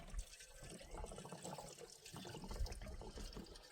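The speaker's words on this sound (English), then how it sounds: "So let's put some petrol in" Petrol being poured into the tank of an old three-wheeled Wrigley farm truck, a faint, steady trickle and splash of liquid running continuously.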